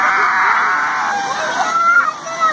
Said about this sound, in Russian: Очень красивый фонтан.